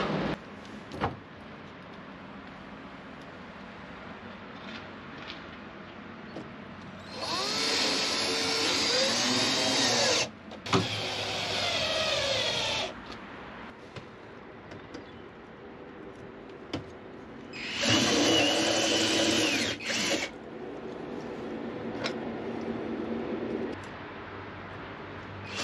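A power drill whirs in two sustained bursts of several seconds each, drilling holes during a Squib sailboat refit, with quieter workshop handling noises between them.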